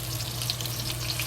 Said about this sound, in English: So just let it slowly like move like this to fry until the meat is fully sealed.